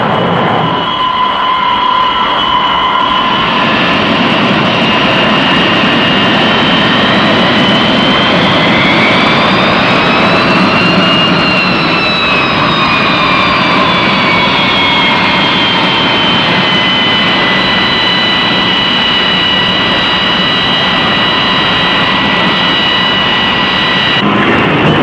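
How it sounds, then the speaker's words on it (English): A carrier on-board delivery plane approaches with a loud, sustained jet engine roar and a whine that rises and falls in pitch as it passes close, heard alone without voices for about twenty-five seconds. "The approach of the carrier on-board delivery plane is a welcome sight"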